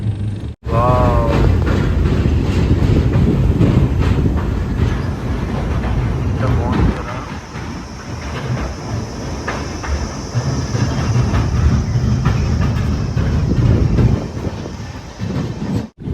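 Visakha Express passenger train running on rails near Nagarikapalli, with a steady loud rumble and rhythmic wheel clatter from inside the coach, a brief squeal early on and a voice now and then.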